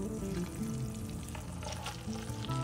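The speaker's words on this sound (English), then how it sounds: "We'll place this on the stove and brown it well on all sides. Listen to that sizzle." A tied pork loin sizzles steadily as it browns in a hot pan on the stove, a continuous close crackle and hiss with no pauses.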